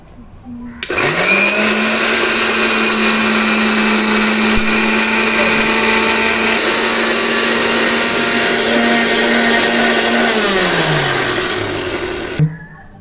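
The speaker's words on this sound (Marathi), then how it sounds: "तेलामध्ये भाजलेल्या मिरच्या आणि लसूण पाकळ्या हे आपण मिक्सरमधून फिरून घेणार आहोत।" A kitchen mixer grinder whirs loudly and steadily for about eleven seconds as it grinds oil-roasted chillies and garlic cloves for sesame chutney, starting abruptly and then winding down at the end.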